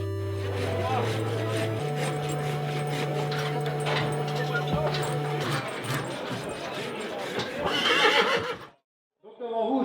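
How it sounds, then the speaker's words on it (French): A large draft horse at a Breton horse fair gives a long, loud whinny that descends in pitch, with crowd noise, shuffling and hoof clatter around it, then a brief drop to near silence before the bustle returns. "Donc devant vous, vous avez un gros cheval."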